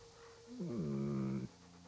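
A dog in the medieval game Kingdom Come: Deliverance gives a short, voiced whine-like pant lasting about a second, close and clear against quiet background ambience.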